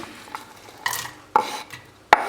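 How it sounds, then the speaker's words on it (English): Meat and onion frying in a Dutch oven over medium heat while being stirred, a faint sizzle beneath a few sharp clinks and scrapes of the utensil against the pot, spaced irregularly, with no voices. "And fry the meat with onion for 5 minutes, while stirring."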